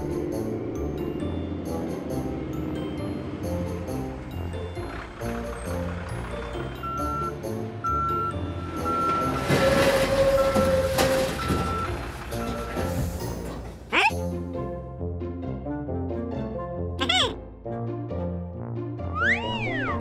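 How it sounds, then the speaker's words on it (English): A cartoon truck arrives with steady electronic reversing beeps over cheerful, bouncy music, followed by a few springy boing-like sliding tones, bright and close with no talking. "here comes a truck"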